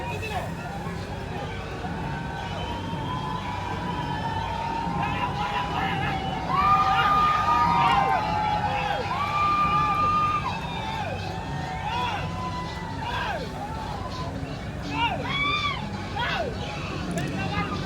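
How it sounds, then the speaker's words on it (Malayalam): A packed cinema crowd roars as Rajinikanth's name appears on screen: sustained hubbub with shrill whistles rising in the middle, mixed under film soundtrack and nearby chatter. "ഇവിടെ രജനീകാന്തിൻ്റെ പേരെഴുതി കാണിച്ചപ്പോൾ തന്നെ തിയേറ്ററിൽ ആരവമായിരുന്നു ആരവം"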